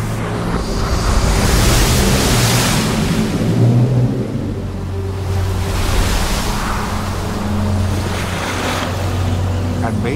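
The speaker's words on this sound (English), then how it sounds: "the Lord caused the sea to go back by a strong east wind all that night" Sea driven back by a strong east wind in a dramatized Exodus reading, heavy surf and roaring wind surging continuously with swelling waves, loud and close, with faint voices underneath.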